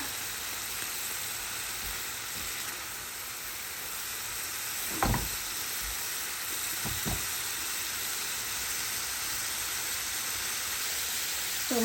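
Spice paste for a fish curry fries in a pan with a steady, even sizzle and hiss throughout, joined by a couple of brief utensil knocks midway, close and continuous with no talk.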